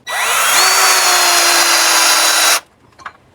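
A power drill whines loudly and steadily for about two and a half seconds, driving a 3.5-inch structural screw with a hex washer through a bracket into wood, then stops abruptly.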